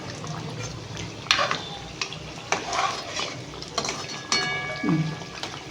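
Singara (samosas) frying in oil and being turned over with a metal utensil: a low bubbling sizzle broken by sharp clinks and scrapes against the pan at irregular intervals.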